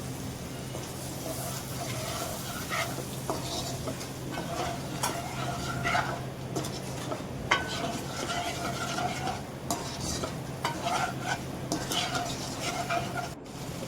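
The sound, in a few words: eggs frying in oil with turmeric, salt, chili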